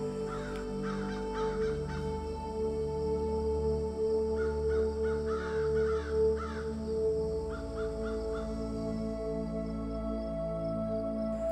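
Crows caw repeatedly in a forest, harsh calls in irregular bursts over a constant tonal drone, with no talking.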